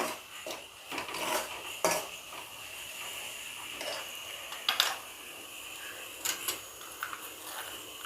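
Spoon mixing coarse ground coriander into Kashmiri mutton rogan josh in a pot, sparse quiet clinks and scrapes against metal scattered over a low background hiss.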